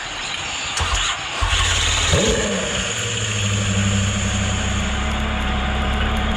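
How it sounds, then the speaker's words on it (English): A car engine cranks and fires on a push-button start in a Spartan Edition car, then settles into a steady low idle that holds close and fairly loud through the rest. "Alright, now we just press this. Engine start."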